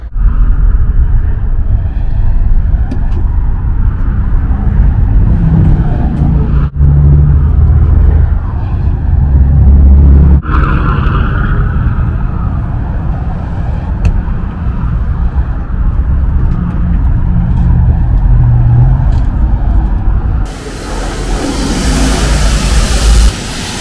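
A rental car driving on the road, steady loud engine and tyre rumble from inside the cabin, with bumps and a brief shift in tone near the end.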